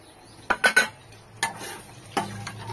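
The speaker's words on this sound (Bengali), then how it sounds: "জিরে তেজপাতা আর গরম মশলা ফোড়ন দিয়ে দিয়েছি" Garam masala and bay leaf tempering in ghee: several sharp metallic clinks and scrapes from a spoon in the pan, in a short cluster then two single knocks, over a faint sizzle.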